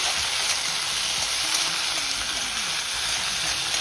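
Tomato sauce sizzling and being stirred in a hot pan while cooking fish manchurian, a steady loud hiss with faint scraping underneath, close and continuous.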